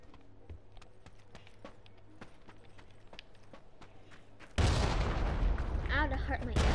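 A loud explosion from a missile strike in PUBG on the Karakin map bursts in suddenly after quiet footsteps and faint ambient game sound, then a roaring rumble and debris continue with a voice speaking over it.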